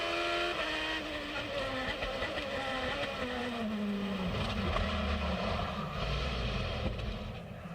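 IndyCar race cars at St. Petersburg on the opening lap roar continuously from an onboard view, engine pitch sliding downward as it brakes into a corner, with the pack's engines droning loudly around it and no talk.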